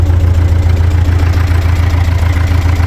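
A 1940 Ford 9N tractor engine, old and still cold with the choke partly on, idles with a loud, steady low rumble and an even throbbing pulse, close by with no talk.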